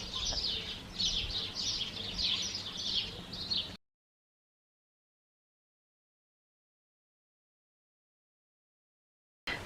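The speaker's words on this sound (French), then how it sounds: "Je crois que les oiseaux ils font un concert." Birds chirp and sing outdoors in a dense, repeated chorus of short, bright calls for a few seconds, then the sound drops to silence.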